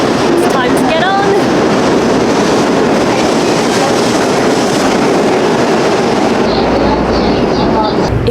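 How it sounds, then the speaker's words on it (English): A Japanese Shinkansen bullet train pulls into a station with a loud, continuous rumble and rushing roar, then the noise eases slightly near the end. "The Shinkansen is arriving."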